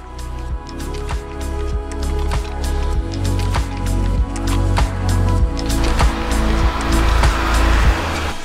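A stuck car's wheels spinning on a steep climbing road, a loud, steady churning roar with rhythmic thumps and gritty squishing as the tires fail to grip, continuing throughout.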